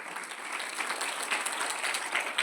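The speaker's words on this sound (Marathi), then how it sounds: "जर कुठं भावलं तर टाळ्या वाजवायच्या." Students clap at a school celebration of Jijau Jayanti and Vivekananda Jayanti at an English-medium school, producing steady, dense applause from a crowd that stays moderately loud throughout, with no talking.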